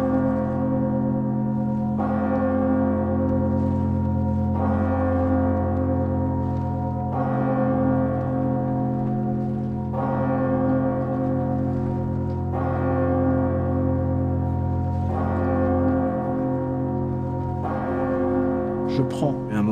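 The great bourdon bell of Notre Dame cathedral, rung with a rope, tolls in slow, regular strokes about every two and a half seconds, each deep booming hum swelling and overlapping the last in a steady, resonant peal.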